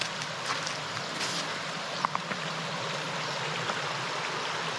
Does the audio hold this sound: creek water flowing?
yes